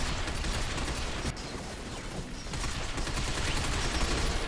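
Gunfire in the shooter Binary Domain crackles in rapid, rattling bursts, with dense mechanical clatter running loud and steady throughout, briefly dipping before resuming.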